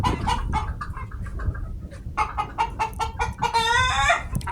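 Farmyard chickens cluck repeatedly up close, a busy run of short calls rising into a louder, drawn-out squawking burst near the end.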